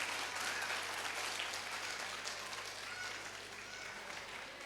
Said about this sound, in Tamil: ஒரு பெரிய கரகோஷம் கொடுங்க